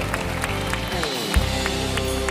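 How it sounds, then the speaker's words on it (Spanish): Church congregation applauding the Lord during a Spanish-language Christian sermon, a steady wash of clapping and crowd noise mixed with low sustained music, with a brief dip in the middle before the applause resumes. "Denle un buen aplauso al Señor."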